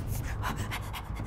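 Heavy, exaggerated breaths in through the nose and out through the mouth, loud and close, in a steady rhythm with no talking.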